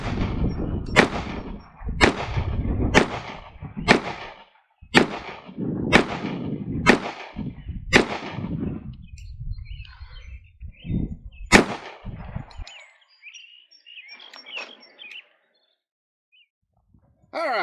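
Repeated sharp gunshots from an ADE Delta pistol in FDE firing 230 grain round-nose .45 ACP at a target, about nine loud evenly spaced cracks roughly a second apart with echoing tails, then a quieter pause and one final shot.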